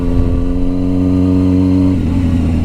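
A stunt motorcycle's exhaust revs steadily at a low, close, loud pitch, the engine note shifting slightly near the end, with no talk over it.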